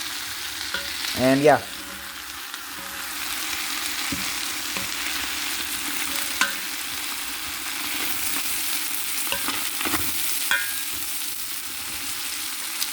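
Chicken and rice soup simmering in a pot while a ladle stirs and breaks up the contents, a steady bubbling hiss with a few soft scrapes and knocks; one brief spoken remark near the start.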